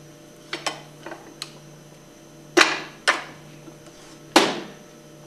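The old seal is pressed out of a Hypro plunger pump casing, heard as a handful of sharp metallic knocks and clunks at uneven intervals, with a few louder impacts standing out against quiet pauses.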